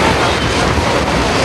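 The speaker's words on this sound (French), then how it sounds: "il y a trop de vent là" Strong wind blows at a beach, buffeting the microphone with a loud, continuous roar that masks other sound.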